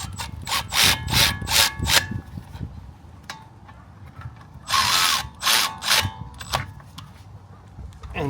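Brake caliper bolts on a 2022 Range Rover Evoque being tightened with a ratchet, a couple of short bursts of rapid clicking close up, with quieter handling in between and faint talking.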